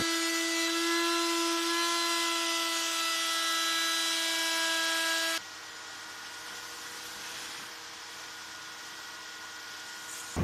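An old Hitachi router, over 25 years old and fitted with a spiral bit, sounds first as a loud, steady, high-pitched motor whine. It then shifts abruptly to a rougher, broadband cutting roar as it routes ash wood for a bench.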